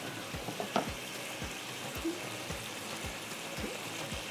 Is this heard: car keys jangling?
no